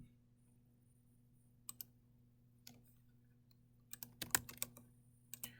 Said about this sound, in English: I'm just randomly typing in numbers and letters